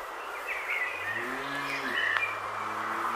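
A cow on a farm lets out a long, close moo that slides in pitch, with small birds chirping faintly in the background.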